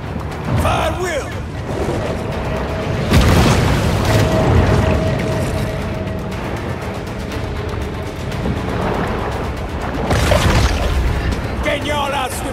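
Deep booming torpedo explosions in the Maneater video game during the Scaly Pete final boss fight, with heavy underwater rumbles swelling twice over a dense game soundscape while a voice talks.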